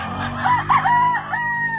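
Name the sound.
chickens clucking and crowing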